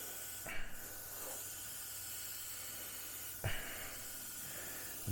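Airbrush spraying light mist coats of paint onto a 1/35 scale Spitfire Mk Vb model, two short hissing bursts close by over a faint steady background hiss.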